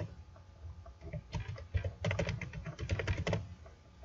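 Fingers tap rapidly on a computer keyboard, a close burst of quick irregular keystrokes that builds and then stops, with no talking.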